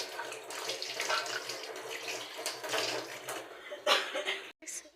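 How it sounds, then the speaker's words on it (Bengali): Tap water runs steadily into a sink while hands are washed, a continuous splashing hiss with small surges before the flow stops abruptly near the end. "চলো, একটু হাতটা ধুয়ে নিচ্ছি।"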